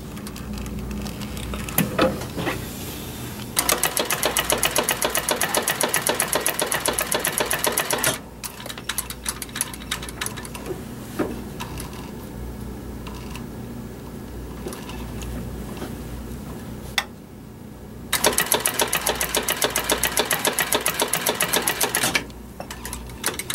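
Consew 206RB-5 industrial sewing machine running test stitches, two loud sustained bursts of rapid mechanical needle clatter separated by a quieter stretch of handling noise and a brief pause.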